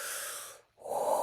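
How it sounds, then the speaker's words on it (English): Two close, airy breaths sound alone: a long exhale fades out, followed after a brief pause by a deep inhale, during a guided healing meditation. "Taking a breath into your heart."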